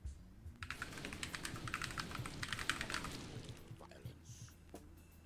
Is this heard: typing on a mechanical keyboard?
yes